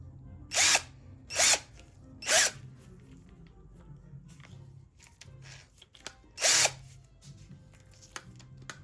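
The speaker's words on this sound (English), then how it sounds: "Here's my drill." A power drill whirs in short bursts, three in quick succession and then one more after a pause, each about half a second, close by.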